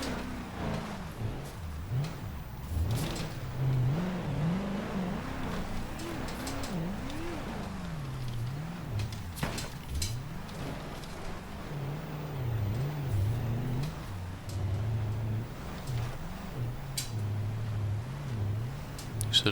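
A drift car's engine revs and bogs repeatedly while driving off-road in BeamNG Drive, a steady wavering drone with rising and falling pitch sweeps and no talking.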